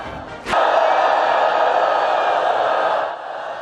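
A large crowd at Tiananmen applauds Xi Jinping, a broad, steady roar of clapping that swells in abruptly after a brief quieter moment and holds evenly before easing slightly.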